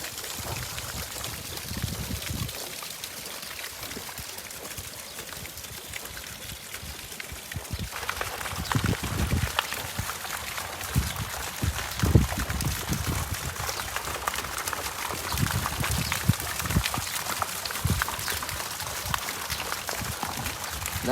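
Sea water surges and gushes from coastal water spouts on a rocky shore, a continuous broadband rush with repeated heavier bursts and splashes, steady and fairly near, with no talking.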